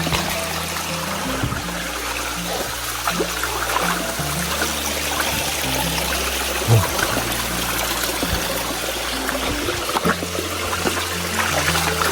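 Clear stream water trickles and flows steadily at a remote, rural mission site, with a continuous broadband babble throughout and a low hum underneath, heard alone without talk.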